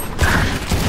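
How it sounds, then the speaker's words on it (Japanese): A short mechanical clack of a gun being reloaded in VALORANT, a quick metallic ratchet-like click close up with no talk. "リロード中。"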